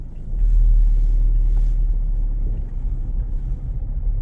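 A car moves forward at low speed, a heavy low engine and road rumble that swells then settles, heard from inside the cabin with no talk.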